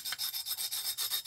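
Steady back-and-forth rasping of abrasive on a cut glass bottle edge, about eight even strokes in quick rhythm, close and fairly quiet.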